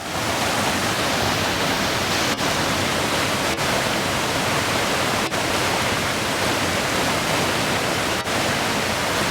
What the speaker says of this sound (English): I love soft flowing water shots.